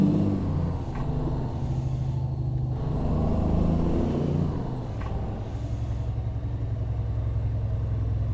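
Heavy truck engine in Euro Truck Simulator 2 pulling hard under acceleration, a continuous low throbbing drone with brief air-brake-like hisses and a rising whine, steady and fairly loud with no talk.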